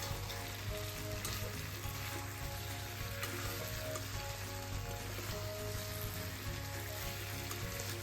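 Hyderabadi red chicken cooking down in a pan until its water dries off, a steady, faint, even sizzle and bubbling throughout with no stirring bursts or voices.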